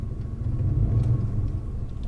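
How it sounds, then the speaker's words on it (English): A car pulls away under gentle acceleration on the way to a store, a low steady engine rumble and road noise from inside the cabin, smooth and unhurried without sharp revving. "Gently apply some acceleration."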